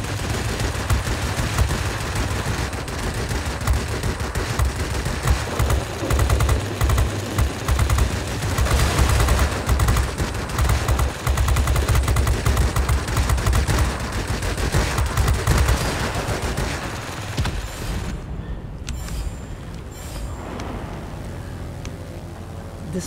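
Machine gun fire from a Me210 heavy fighter in World of Warplanes, rendered as dense, continuous rattling bursts over a loud engine drone that holds for most of the stretch before cutting off near the end.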